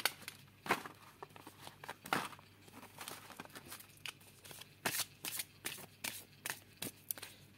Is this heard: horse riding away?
no